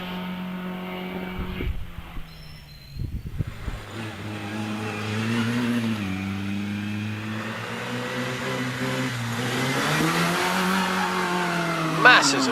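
A Riley 9 Special race car climbing a hill-climb course at a vintage motorsport event, its engine droning and rising in pitch through the gears, loud and sustained with crowd ambience behind.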